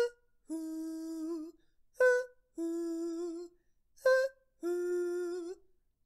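A singer's falsetto voice imitates an owl's hoo-hoo during a vocal warm-up, alternating short rising hoots with longer held tones in a repeating pattern, close and clear against silence.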